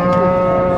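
A large cow at a busy Eid livestock market in Horogoj, Manikganj, gives one long, loud, close moo, about a second in length.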